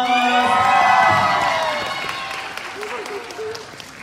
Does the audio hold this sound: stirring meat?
no